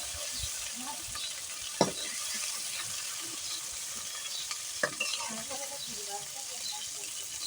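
Masala sautéed in a pan with a quiet, continuous sizzle and stirring, broken by two sharp knocks of a spoon against the pan.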